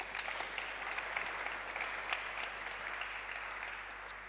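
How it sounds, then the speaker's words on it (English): Conference audience applauding steadily at moderate distance, a dense even wash of many hands clapping that holds for several seconds with no voices over it. "So big applause for both."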